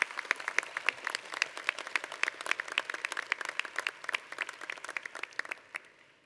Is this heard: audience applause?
yes